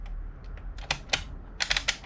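Keys on the console of a Passap E6000 knitting machine being pressed, giving a quick series of close, sharp plastic clicks, some in rapid pairs, with no talk.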